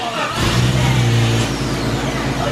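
A car engine catches after a brief quiet moment and settles into a steady, close idle with a low droning hum that continues to the end.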